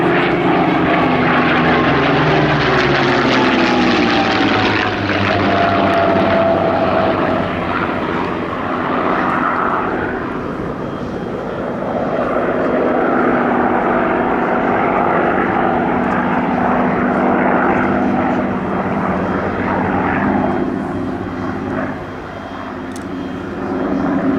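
Spitfire and Messerschmitt warbirds flying a display at an air show, their piston engines and propellers roaring loudly and continuously, swelling and fading as the aircraft pass overhead, with no voices.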